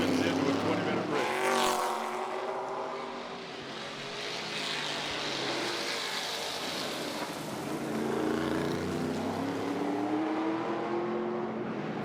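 Historic Trans Am race cars at the 2018 Long Beach street race, loud roaring V8 engines sweeping past nearby with rising and falling pitch as they accelerate and shift, with a commentator talking over the noise.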